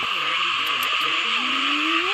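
A frog chorus out in a rural northeast Thai night, with scattered croaks and one long rising call standing out above a steady, loud background drone of insects.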